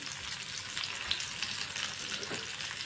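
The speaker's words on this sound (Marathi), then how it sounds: "कमी गॅसवर मस्त तिला थोडंसं एक साईडला खरपूस भाजून घ्यायचं" Fish frying in oil in a pan covered with a lid over a low gas flame gives a steady, soft sizzle and crackle with faint spatters throughout, close by and with no one talking.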